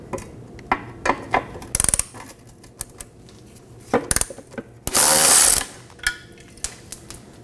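A ratchet works a bolt loose from a fuel tank strap on a 2015-2023 Nissan Maxima 3.5L V6, giving short bursts of clicking with pauses between, close and fairly quiet.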